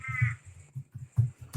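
Several harsh, cawing bird calls in quick succession, loud and close, with short gaps between them and no talking.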